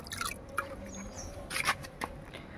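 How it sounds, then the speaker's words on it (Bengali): Newly planted hibiscus plants get a full watering, with a few close drips and small splashes of water on soil in quick, uneven bursts over a quiet background. "দুটো গাছেও এখন আমরা সম্পূর্ণ জল দিয়ে দেব"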